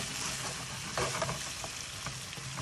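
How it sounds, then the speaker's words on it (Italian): Cherry tomatoes hit a hot pan of porcini mushroom sauce and sizzle steadily, with soft stirring scrapes and pops over a constant frying hiss, close and moderately quiet. "Ok, ora metto i pomodorini, le normalissimi ciliegini."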